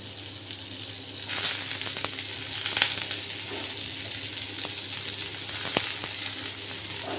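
Cabbage is tipped into hot oil with already-fried potatoes, raising a louder hissing sizzle that continues steadily, with scattered light clicks and scrapes of stirring.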